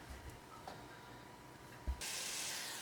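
Meat browning in a pan for a bean dish, heard as a soft, steady sizzling hiss at low level with a few faint clinks, rising to a brighter, louder hiss near the end.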